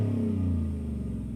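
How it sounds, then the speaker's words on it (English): Deep supercharged V8 rumble from a 2023 Ford F150 Shelby Super Snake through a Borla exhaust, loud and close, a sustained low idle-rev with rhythmic throbbing pulses and no voices. "you also have this Shelby-tuned Borla exhaust system with these gloss black tips. It's an amazing sounding car."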